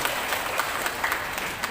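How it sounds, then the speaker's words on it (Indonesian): An audience at a large Islamic religious gathering in Blora applauds steadily, a dense patter of many hands clapping at moderate volume throughout the short moment. "Tepuk tangan untuk Bu Aini"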